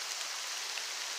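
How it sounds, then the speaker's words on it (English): Rain falling on water outdoors makes a steady, close, hissing patter, with no voices. "The rain is why we're doing short clips."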